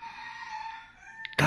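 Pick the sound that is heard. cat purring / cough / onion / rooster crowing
rooster crowing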